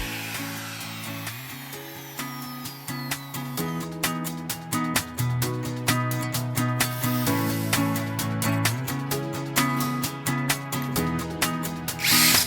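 A power drill bores into small riverbank log branches and drives screws, whining steadily with pitch shifts as the bit loads and eases, and short pulsing bursts near the end, with no talking.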